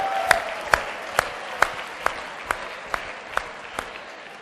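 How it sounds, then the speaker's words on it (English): Slow rhythmic clapping, about ten evenly spaced sharp claps at half-second intervals, fairly close and fading slightly, more like a small group clapping in unison than a full audience roar. "Everybody give them a big round of applause."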